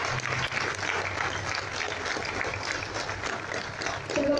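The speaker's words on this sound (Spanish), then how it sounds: "quiero que le demos un fuerte aplauso desde el Carajal" An audience at a political gathering in Mexico claps in a sustained round of applause, a dense patter of many hands held at an even level throughout.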